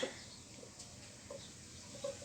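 Faint rooster clucks and calls come through a steady background hum, a few short bursts spread over a couple of seconds.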